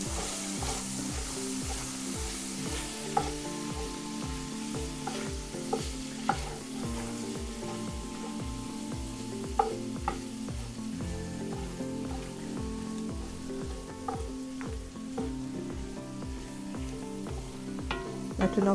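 Flour is stirred into onions frying in a pan to make a roux, a low steady sizzle under repeated scraping strokes of a spoon against the pan, close and fairly quiet, with no voices.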